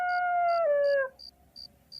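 A dog howls in a single long, wavering cry that slides downward and fades, followed by faint high chirps in the quiet, as a sound effect in a Filipino aswang horror story set in wartime.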